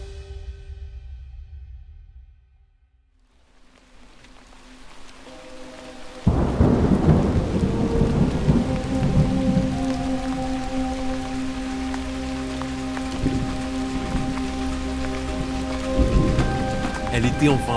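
A thunderstorm breaks over the Amazon at the start of the rainy season: a deep roll of thunder swells from near silence, then dense heavy rain drums loudly and steadily on surfaces.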